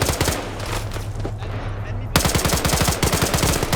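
Loud automatic rifle fire from a video game PvP match at a biolab, rapid bursts crackling continuously through the whole stretch and growing denser and harsher partway in.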